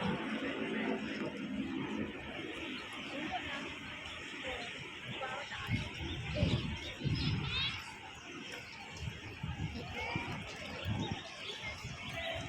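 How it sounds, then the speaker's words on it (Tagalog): Birds chirping and calling inside a mall, with light tweets scattered over a steady crowd murmur and nearby voices talking. "Mga ibon."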